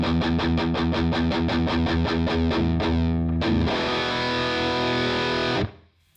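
Distorted electric guitar through a simulated cabinet miked with a 57 dynamic microphone: a fast run of chugging palm-muted chords, then a long sustained ringing chord that cuts off abruptly, loud and close.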